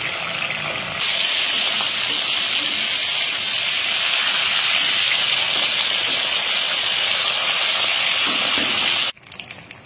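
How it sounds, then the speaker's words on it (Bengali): Fish heads coated in salt and turmeric fry in hot oil, a loud, close, continuous hissing sizzle that starts abruptly and holds steady for about eight seconds before cutting off. "মাছের মাথাগুলো লাল লাল করে ভাজা হয়ে গেছে, একদম করকরে।"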